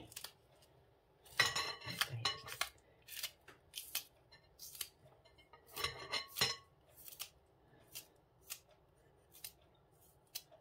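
Spring onions being cut into a Thai spicy salad of beef tripe, liver and pork, giving a close, crisp series of roughly a dozen irregular snipping cuts, some in quick bursts, with no talking.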